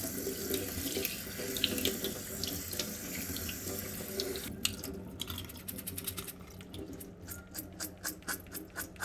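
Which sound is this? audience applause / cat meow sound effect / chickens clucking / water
water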